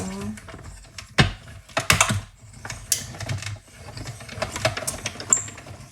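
A hand-cranked die-cutting machine feeds paper through with uneven mechanical clicks, clunks and ratcheting, close up, with a brief stretch of talk.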